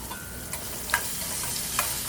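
Sliced ridge gourd dropped into a hot tempering with asafoetida sizzles in a steady, close hiss, with a couple of brief clinks or stirs cutting through the frying noise.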